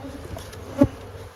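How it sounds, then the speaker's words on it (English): A low, droning hum of buzzing bees, faint and steady, with one brief louder thump partway through. "Let's smoke the bees out of it."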